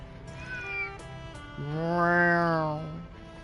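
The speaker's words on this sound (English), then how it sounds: "Oh, there's a cat." A single drawn-out cat meow from a PS4 video game, clear and fairly close, preceded by faint clicks and a brief higher tone.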